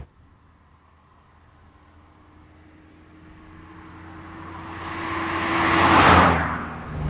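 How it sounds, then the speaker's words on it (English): A 1972 Audi 100 Coupe S with a single carburetor and no catalytic converter approaches, its engine note building steadily from faint to loud, peaking as it passes close by, then fading slightly. "It sounds really tasty in that way that only old cars can, with no catalytic converter in the way and a simple single carburetor up front."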